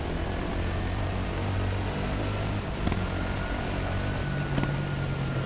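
A helicopter drones overhead during a Dakar 2022 quad rally stage, a loud, steady engine and rotor roar with no other sounds.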